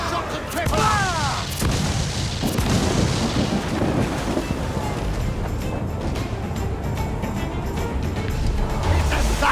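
Ship cannons fire in a naval battle in Assassin's Creed IV Black Flag: repeated heavy booms and crackling blasts over rolling rumble and sea noise, loud and dense for nearly ten seconds, with shouted commands mixed in.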